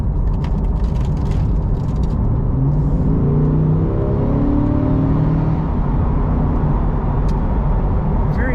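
A 2020 Chevrolet Corvette 2LT Z51 coupe's engine pulls steadily under load, its tone rising as the car gains speed, with constant road and cabin rumble throughout.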